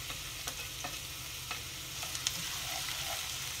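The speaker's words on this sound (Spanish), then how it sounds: "Y voy a dejar que se me fría un poquito la cebolla" Chopped onion frying in a little oil in a pot over a flame, a quiet, steady sizzle with a few soft crackles and spoon taps.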